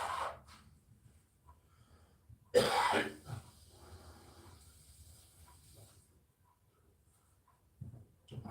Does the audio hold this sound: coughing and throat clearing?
yes